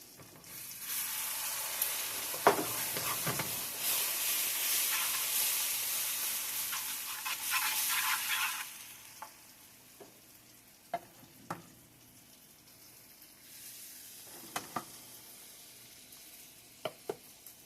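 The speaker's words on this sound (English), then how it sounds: "Keep on stirring because you do not want lumps" Sausage gravy with milk simmering and being stirred in a pan: a loud bright sizzle for the first half that fades, then quieter bubbling with sharp spoon clinks and taps against the pan.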